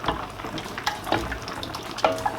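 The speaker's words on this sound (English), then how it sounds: "Add a little bit more water." Water is poured into a pot of Nigerian nsala soup with blended pepper and onions, making a close, continuous splashing and bubbling pour with small gurgles, and no talking.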